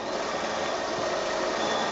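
A sewing machine runs steadily, stitching a 1/4 inch seam along a quilt's binding, a continuous close mechanical whir and hum without pauses or talk.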